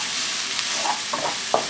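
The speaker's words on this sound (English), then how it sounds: "Now I'll add in my chopped onions. And we will fry this onion till it turns a little translucent" Chopped onions fry in oil, a loud, steady sizzle hissing close up, with a few soft stirring scrapes near the end.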